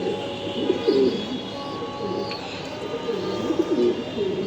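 Pigeons coo repeatedly inside a loft housing racing and breeding birds, their soft, rolling calls close and steady over a constant low hum.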